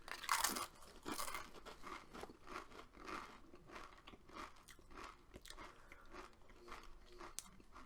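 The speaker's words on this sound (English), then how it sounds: "Swallow. Crunch. Crunch." Cheese and onion crisps crunched and chewed close up, a loud crackly bite at the start followed by a steady run of sharp, irregular crunches with no talking.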